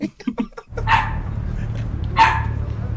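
A dog gives two separate barks, fairly close and clear, after a moment of talk at the start, with a low steady hum underneath.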